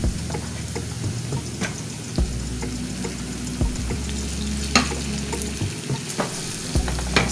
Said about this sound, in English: So I'll just fry this plain